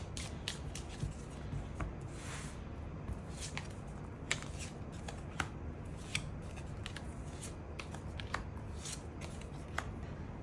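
Tarot cards shuffled and drawn during a monthly fortune reading, with soft rapid riffling and papery flicks alongside sharp little snaps at intervals, close and steady with no talk.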